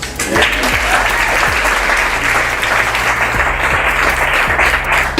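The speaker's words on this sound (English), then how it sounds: "a round of applause for everyone involved" Sustained audience applause at an event for a sober-living calendar project fills the space, dense and steady from start to finish, with a few low thumps underneath.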